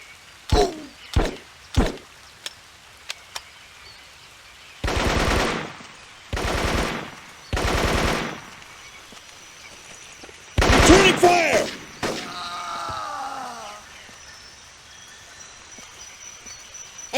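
Gunfire in the jungle warfare shooter Marine Sharpshooter 2, with a few sharp single shots followed by several loud, sustained automatic bursts, then a final burst with a voice shouting over it amid insect-like ambience.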